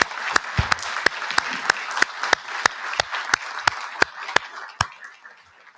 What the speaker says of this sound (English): I would recommend all of us to give her a standing ovation